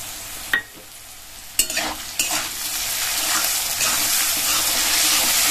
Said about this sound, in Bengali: গাজরগুলো দিয়ে দিচ্ছি কেটে রাখা, ভালো করে আমি ভেজে নেব।